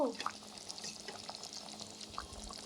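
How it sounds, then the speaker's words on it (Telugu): Water is poured into a pan of chicken curry with a short, faint splash and trickle at the start, followed by light liquid sounds and a small splash near the end, under quiet kitchen ambience. "నేను ఇక్కడ వన్ గ్లాస్ యాడ్ చేస్తున్నాను వాటర్ యాడ్ చేశాక బాగా కుక్ చేసుకోండి"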